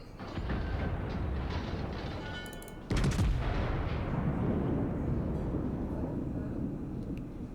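Warship main guns firing in the naval video game World of Warships, a Dreadnought battleship, with a sudden heavy boom that rolls into a long, loud rumble over engine and sea noise.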